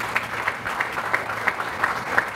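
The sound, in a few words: audience applause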